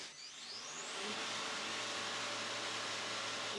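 Amazon 3 GPM pressure washer with a permanent magnet motor running steadily, a loud continuous broadband whir and hiss that swells in the first second and then holds constant, with no voices.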